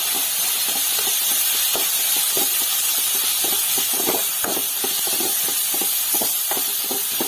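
Onion and tomato with slit green chilies, chili powder, turmeric and coriander leaves sauté in a pan for a hotel-style tomato kurma, giving a steady, loud sizzling hiss with small crackles and a few scraping stirs throughout.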